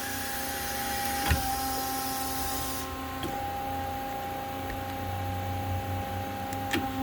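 A Mazak lathe tailstock advancing under an automatic program. A steady mechanical hum with faint whining tones runs throughout. A soft click sounds near the start, and the bright background hiss drops away partway through.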